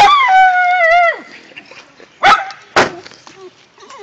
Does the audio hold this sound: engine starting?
no